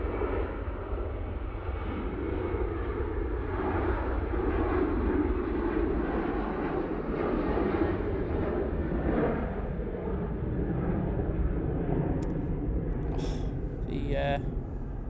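A jet airliner departing Manchester Airport on a cold morning gives a steady, moderately distant engine roar, with a voice talking over it.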